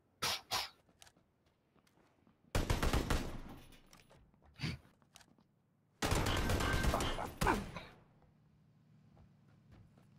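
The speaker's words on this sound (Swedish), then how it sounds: "Jävlar man bara hör den jävla SKS:en smäll." SKS rifle gunfire in a video game, a few sharp isolated cracks followed by two loud sustained bursts of shooting, with quiet gaps between them.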